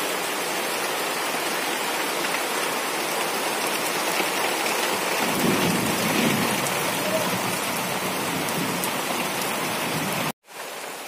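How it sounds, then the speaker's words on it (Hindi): Steady rain falls outdoors while a man shelters from it, a dense continuous wash of drops on surfaces with no distinct thunder, cutting out briefly near the end before resuming. "बारिश पड़ रहा बोलिए हम बारिश में फंस चुकल बनी"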